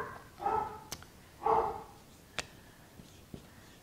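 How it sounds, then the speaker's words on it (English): A pet dog at home gives two short barks, fairly close and moderate in loudness, with a few faint clicks and knocks in between and a quiet room around it. "my dog is home."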